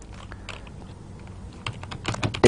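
Keystrokes on a computer keyboard as a networking command is entered, sparse clicks at first then a quicker, denser burst of typing near the end, close and fairly quiet with no talking.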